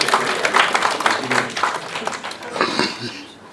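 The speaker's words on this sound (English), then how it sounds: "Give her a round of applause" Dense audience applause fills the room, loud and continuous, with voices mixed in and a dog-like bark-ish burst among the clapping before it starts to fade.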